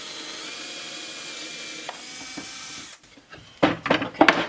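Bosch cordless drill boring into wood, a steady whirring hum for about three seconds, then a pause and bursts of louder, rougher drilling and scraping up close.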